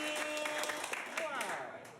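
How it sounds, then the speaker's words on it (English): Audience applause with cheering at a live comedy show, a dense wash of clapping that holds steady for a couple of seconds, with voices mixed in. "big round of applause for Morgan"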